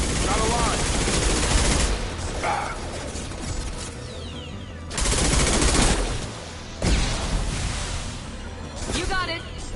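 Sustained gunfire in a Mass Effect 2 firefight, bursts of rapid shots running through the whole stretch with loud peaks and short gaps, game voices calling out over the shooting.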